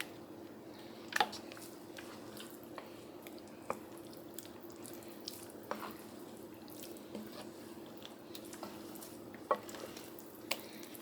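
Fiery shrimp noodles being stirred in a pot, soft scattered scrapes and light clinks with faint wet sizzling underneath, quiet and close over a steady low hum.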